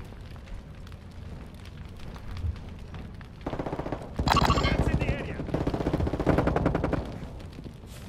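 Rapid automatic gunfire bursts from a first-person shooter video game, loud and sustained for several seconds, with brief quieter gaps between volleys.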